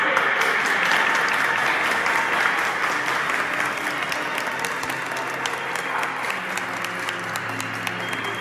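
Sustained loud audience applause at an Academy Awards radio broadcast, a dense continuous wash of clapping from a large crowd that holds steady throughout.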